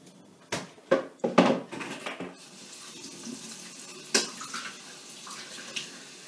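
Water runs from a kitchen tap while cups and cutlery knock against the sink, with several close clattering hits over a steady flow of water.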